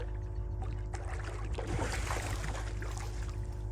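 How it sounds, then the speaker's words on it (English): Small electric trolling motor on a fishing boat in shallow redfish flats, a steady low hum with water lapping against the hull, continuous and fairly close with no talking. "I had to trolling motor my way out of here anyway"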